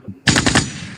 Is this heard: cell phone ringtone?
no